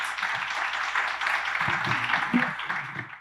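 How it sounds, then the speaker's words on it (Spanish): Audience applause for panelists at a forum on sustainable territorial planning, steady, fairly faint clapping from a crowd heard at a distance, fading out at the end. "Un aplauso para nuestros panelistas, por favor."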